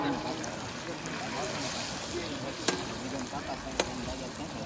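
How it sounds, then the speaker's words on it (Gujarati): Continuous soft crackle of paneer frying in hot oil, fairly quiet and even, with a couple of sharp clicks near the end. "અમારા મહેમાન પનીર તળી રહ્યા છે"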